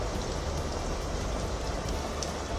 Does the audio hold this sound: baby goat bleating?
no